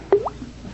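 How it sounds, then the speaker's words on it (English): A single close water drop from a dripping bathroom faucet, staged as a radio drama sound effect, lands as one clear plop with a short rising ring, then fades into quiet. "the faucet in the bathroom's dripping"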